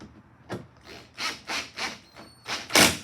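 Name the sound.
drill driving screws into plastic taillight socket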